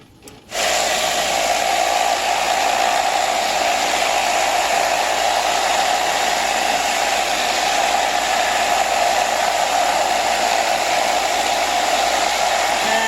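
A steady, loud mechanical hum with a grinding, rattling hiss runs without pause after a brief quiet start: a Thumler's Ultra Vibe vibratory rock tumbler with grit churning continuously.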